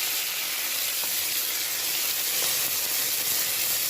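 Mint and herbs fry in hot oil for a mutton curry, giving a dense, continuous hissing sizzle that stays close and steady throughout with no voices.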